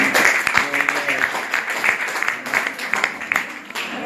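Applause from a college audience at an Urdu department debate, a dense steady patter of many hands clapping together, with voices mixed faintly into the crowd.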